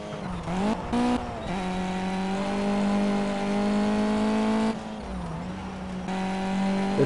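Race cars driven in the Project CARS video game at Le Mans: a steady, loud engine drone with shifting pitch, brief gear-change dips and a tire squeal, continuous throughout with no talk.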